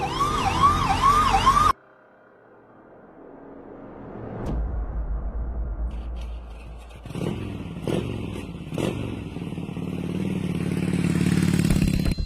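A motorbike ambulance siren of Pakistan's Rescue 1122 service wails briefly, then cuts out; after a quiet stretch, engine noise and clattering build up, growing steadily louder.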